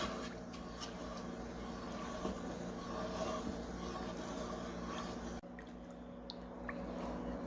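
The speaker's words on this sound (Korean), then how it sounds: "이렇게 계속 저어주셔야 돼요. 쉬고 있으면 녹말이 밑으로 가라앉아서 눌어요." Acorn starch mixture with cooking oil stirred continuously in a pot for acorn jelly, giving a steady wet, squishing slosh with faint drips that runs for the whole stretch without speech.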